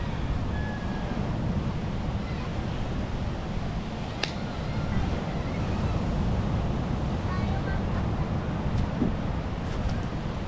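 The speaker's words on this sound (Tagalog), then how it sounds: "Yung lakas ng hangin." A steady, heavy roar of strong wind through bamboo fills the scene without letup, buffeting a GoPro microphone, with a few faint clicks and knocks in the background.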